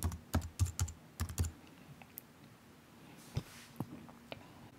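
Keys clatter on a computer keyboard while text is typed, a quick burst of close, crisp clicks that thins to a few scattered taps.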